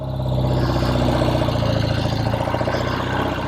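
A 1969 Triumph TR6R motorcycle engine runs close and loud in a steady, throbbing idle with a faint rev, alone without talk.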